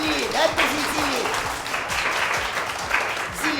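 A group of schoolchildren in an Erbil classroom gives a burst of clapping for a girl, a quick, uneven patter of many hands close by, with voices over it.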